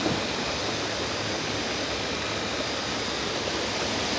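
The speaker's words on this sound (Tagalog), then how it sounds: "Ito yung falls niya." River waterfall at Bailen, Cavite, pouring into shallow water: a steady, dense broadband rush that stays constant throughout, close and fairly loud, with no voices over it.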